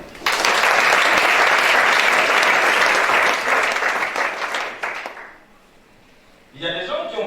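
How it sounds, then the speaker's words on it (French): A church congregation claps loudly and steadily for about five seconds, the applause fading into quiet before a voice speaks. "Acclamez ça."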